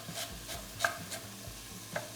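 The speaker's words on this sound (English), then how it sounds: "Let's stir that up." Thinly sliced carrots being stirred in a pan for fish stock, with a utensil scraping and clacking in a steady rhythm over a low sizzle.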